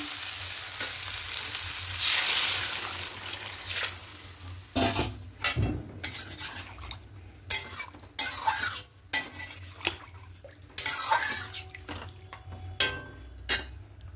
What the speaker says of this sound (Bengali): এবার এখানে জলটা দিয়ে দেবো।